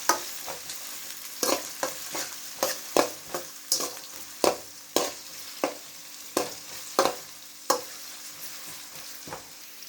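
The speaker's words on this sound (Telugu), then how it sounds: "ఆనియన్ బాగా వేగాలండి." Onions fry in a pan with dried red chillies for a ridge gourd curry, a quiet steady sizzle punctuated by a regular rhythm of spoon taps and scrapes roughly every half second, near and alone.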